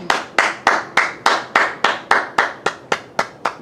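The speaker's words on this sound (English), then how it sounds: "Golf clap for you, dinkus." A slow, deliberate golf clap by one person: about twelve sharp, evenly spaced hand claps, close and clear, with no talking.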